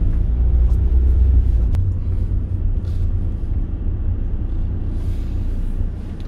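A car driving along a road, with a loud steady low rumble from inside the vehicle and no talk.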